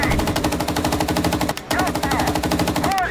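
Rapid bursts of heavy machine gun fire hammer away in an M1 Abrams tank game as enemy infantry are mown down, loud and continuous with a brief pause midway.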